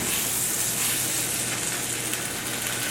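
A grilled cheese sandwich sizzles steadily in a hot pan, a dense, even crackling hiss heard up close with no voices.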